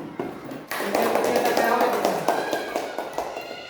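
Classroom applause from a group of students, a burst of quick claps starting abruptly and continuing as a dense, fairly close patter that gradually thins out, with voices mixed in.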